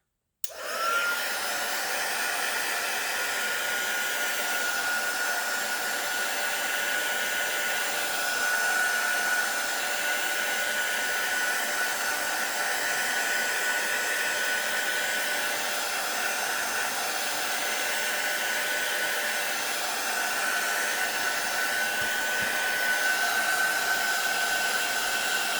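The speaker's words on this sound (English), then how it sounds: "Grabbing the heat tool." A heat gun blows a steady, even whooshing hum for a long stretch while drying an art journal page, starting abruptly and running close and continuous with no talk.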